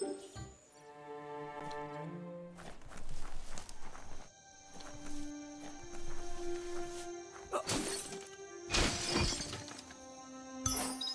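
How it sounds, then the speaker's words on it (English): A box being smashed in the video game Biomutant: a few loud, sharp crashing bursts break in over steady in-game music and ambience. "You shouldn't worry about smashing up the box."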